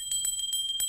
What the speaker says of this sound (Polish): Tu obok jest dzwonek ze Stanów Zjednoczonych